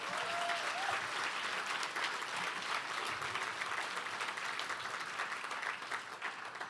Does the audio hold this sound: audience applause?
yes